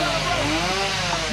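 A wood chipper drones loudly and steadily nearby, a dense, continuous mechanical roar that fills the short stretch, with voices barely showing beneath it.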